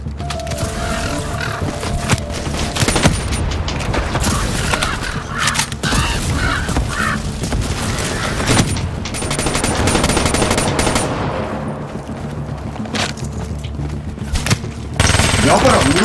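Rapid automatic gunfire rattles almost without pause in Call of Duty: Black Ops 3 multiplayer, loud and dense, with a player shouting over the shots.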